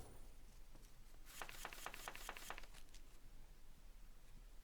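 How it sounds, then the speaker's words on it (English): Cards shuffle in the deck-building game Breach Wanderers: a short burst of rapid, crisp riffling clicks, about seven quick snaps in a row, faint and isolated. "oh, it's just gonna shuffle."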